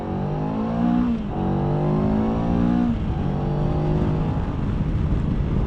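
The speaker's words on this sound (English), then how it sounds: "it almost seems like the bike revs out really high" A 2025 Moto Morini Calibro Bagger motorcycle engine revs up and climbs in pitch, eases off briefly, then winds up again, loud and close with a steady roar underneath.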